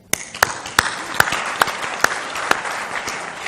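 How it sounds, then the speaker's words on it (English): An audience at a design-thinking conference session claps for itself, with a few sharp, distinct claps standing out over a thinner bed of scattered applause for a few seconds. "I think you should give yourself a clap."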